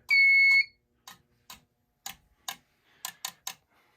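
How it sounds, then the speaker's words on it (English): A carbon monoxide detector alarm sounds a loud electronic tone briefly during an alarm panel test, then a series of sharp ticking relay clicks follows in an uneven pattern before fading into quiet. "Let's activate a CO detector."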